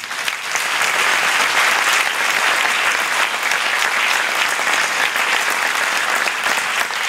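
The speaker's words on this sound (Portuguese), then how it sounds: "Eu prefiro uma salva de palmas para todos os artistas." Audience applauding artists at a Portuguese cultural event, a dense, loud and sustained round of clapping from a large crowd that holds steady for several seconds.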